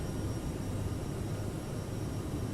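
CRJ700 jet engines at climb throttle in a flight simulator game produce a steady, dense roar with a faint high whine on top, constant and unbroken throughout.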